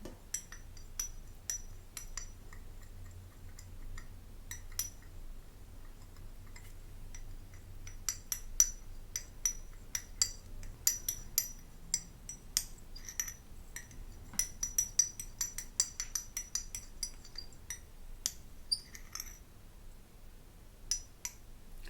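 Candle oil mixture stirred in a small dish, heard as quiet, close, irregular tinkling clinks and scrapes of a utensil against the dish, repeating throughout with no voices.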